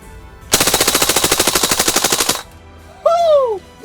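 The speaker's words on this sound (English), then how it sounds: "let me just show you full auto, and then we're going to go back to the chrono actually and show you full auto in the chrono" An SRC SR5 A3 CO2 blowback airsoft submachine gun fires one long full-auto burst of about two seconds, a rapid, evenly spaced chatter of close, sharp reports. A short whooping voice follows.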